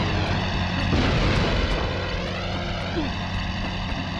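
An out-of-control plane engine in the Spider-Man 2 video game roars loud and steady, a dense droning rumble that holds throughout with slight wavering pitch.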